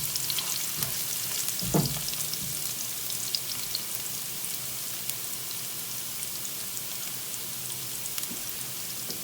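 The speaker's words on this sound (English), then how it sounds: "The cumin seeds and the dry chili with the hot oil, we just love that smell." Cumin seeds and dry chili sizzle steadily in hot oil, a dense, even crackle that keeps going the whole time with a few louder pops and a brief stir, and no one speaking.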